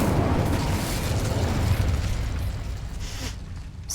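A roaring, rumbling fire-spell blast cast in Hogwarts Legacy, loud and sustained for several seconds at a gate, with a dense low-end whoosh that tapers slightly before a brief crackle near the end.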